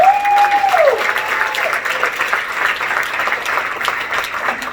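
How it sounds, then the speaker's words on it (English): Audience applause in a hall, a broad, steady wash of clapping at moderate volume with no distinct individual claps, sustained for several seconds after a brief tonal sound at the start. "So please give yourself a round of applause."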